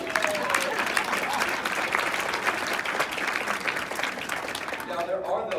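Studio audience breaks into steady, dense applause lasting several seconds, with scattered cheers, tapering near the end as a voice starts.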